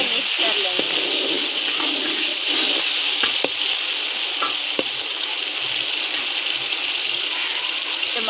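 Chilies stirred into a frying pan while making Chinese fried rice, a loud steady sizzle with occasional spatula clicks and scrapes against the pan, close by.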